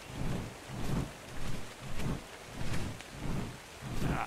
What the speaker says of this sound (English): Does it rain all over the map, Portlay? Is it raining where you are?